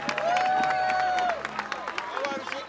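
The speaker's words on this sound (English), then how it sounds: "We got to give a big round of applause to all these scouts and their songs." A crowd claps and cheers for scouts who have just sung at the 2022 Mountainside tree lighting, an outdoor community event. The applause is a steady patter of many close and distant hands, with a long whistle-like tone sounding over it early on.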